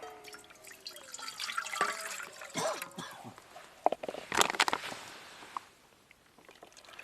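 Water poured from a bottle into a small metal camping mess kit cup by a lake on a backcountry trip, a light trickling and splashing that swells and fades over several seconds with faint outdoor ambience.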